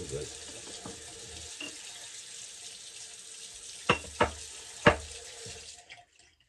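A razor rinsed under a running tap, a steady hiss of flowing water with three sharp taps of the razor against the sink near the end before the water cuts off.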